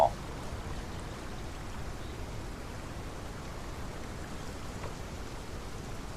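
Steady rain falling in the Path of Titans dinosaur game, a constant soft hiss of drops and wash that stays even and moderately loud throughout, with no voices over it.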